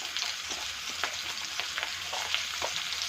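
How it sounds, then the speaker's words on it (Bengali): Papaya and cauliflower frying in a pan, a steady bright sizzle with irregular crackles and the scrape of stirring, close and continuous with no voices. "একটু ফুলকপি, এগুলো সব দিয়ে একটু কষিয়ে নেব"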